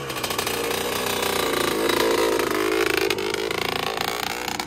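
A Kawasaki KX125 two-stroke dirt bike engine running rough, a loud buzzing, ragged idle and revs that waver unevenly for several seconds, close up with no speech.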